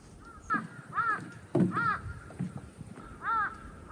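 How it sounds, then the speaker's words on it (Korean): Crows caw repeatedly on Myeongseongsan mountain, harsh calls arriving in a steady series of about six, fairly near and clear over quiet open air. "까마귀들도 울기 시작했어요"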